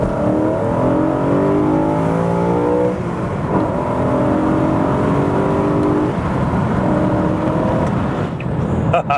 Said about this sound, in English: It's definitely amplified the sound of the V8, which is exactly what I wanted.